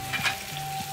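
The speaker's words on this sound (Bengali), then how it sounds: "মাছের এক পাশ ভাজা হয়ে গিয়েছে," Fish fries in hot oil, a brief continuous sizzle with a faint steady tone running beneath it.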